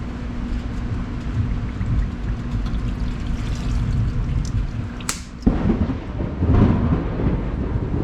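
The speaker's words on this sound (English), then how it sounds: "Lightning just hit the shop." A sharp crack of lightning striking a nearby workshop cuts through steady rain and hum, followed by a rumbling roll of thunder.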